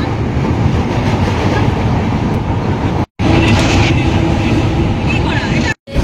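A moving passenger train on a long Howrah to Katpadi journey rumbles loudly and continuously from inside, with a roaring rattle of the carriage briefly cutting out twice, and voices mixed in.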